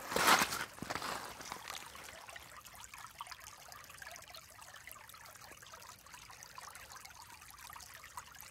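Water trickling in a small outdoor stream on rural property, a soft, continuous babble with a brief louder splashing burst at the start, then a steady faint flow.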